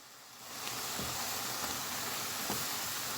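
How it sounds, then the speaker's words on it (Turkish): Apples sautéing in a pan with cinnamon give off a continuous, close sizzle, with a few soft stirring knocks of a utensil against the pan. "elmamızın biraz pembeleşip kavrulmasını sağlayacağım"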